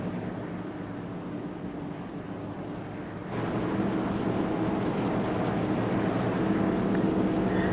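Race cars lap an oval track during a memorial racing event, their engines a steady, distant roar that grows louder partway through and holds on, with no talk over it.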